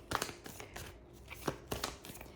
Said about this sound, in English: sometimes I shuffle.